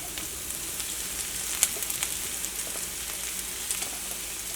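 Carrots tipped into hot onions in a pan, giving a continuous soft sizzle up close with a single sharp tap near the start, no voices.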